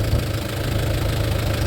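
A tractor engine idles with a rotavator attached on a farm field, a steady low diesel rumble with a faint knocking pulse, loud and close, holding even throughout with no talking.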